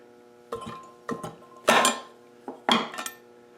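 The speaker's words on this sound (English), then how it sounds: "I guess I might as well pop that thermostat out of there." A thermostat is pried out of a GM 4.3L intake manifold from an Astro or Safari van, producing a handful of sharp close metallic clanks and scrapes in irregular bursts, with no talking.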